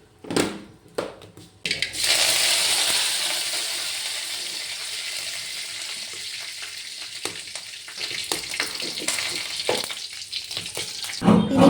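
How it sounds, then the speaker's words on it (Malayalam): Curry leaves and spices for sambar tempering hit hot oil with a sudden loud sizzle that fades slowly, after a few soft clinks and with faint stirring crackles near the end. "ഇനി അതിലേക്ക് വറവിടണം"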